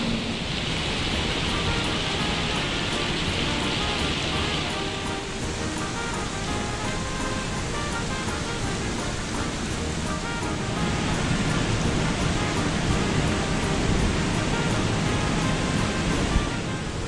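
Steady broadband hiss of heavy rain falling at Gambir train station in Jakarta, continuous and fairly loud throughout with no talking.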